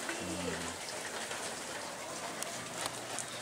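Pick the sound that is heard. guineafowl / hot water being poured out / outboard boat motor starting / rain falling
rain falling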